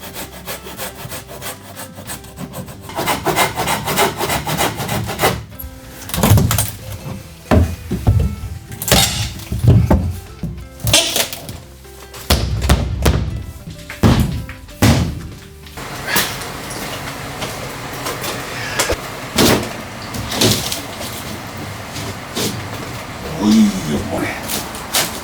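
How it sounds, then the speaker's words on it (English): Carpenter tearing out an old house wall section for a 90 centimeter doorway, with loud rhythmic wood sawing, scraping and knocking close up, interrupted by short pauses, and a person speaking at times. "Then take out the wall in the 90 centimeter doorway section."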